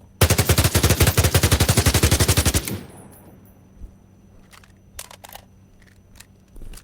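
Video game gun with new recoil firing a rapid automatic burst of about three dozen sharp, evenly spaced shots over two and a half seconds, then a fading tail and a few faint clicks and handling noises.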